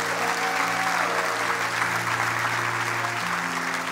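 A church congregation applauds steadily and loudly throughout a sermon service, a dense continuous wash of clapping with a sustained tonal hum underneath.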